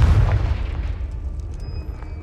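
A Confringo fire spell from Hogwarts Legacy bursts with a low, rumbling boom that swells briefly at the start and then trails off into a dull, continuous roar.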